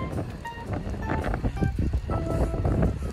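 Strong wind on a bike lane buffets the microphone in a deep, fluctuating rumble, with faint rattles and tones underneath.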